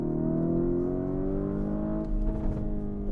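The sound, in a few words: Lamborghini Huracan or Urus engine revving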